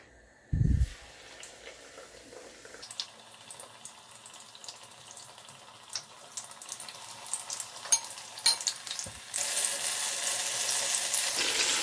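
Battered ripe banana slices for pazhampori are dropped into hot oil. A sharp initial splash gives way to a steady crackling sizzle, which swells into a louder, dense hiss near the end.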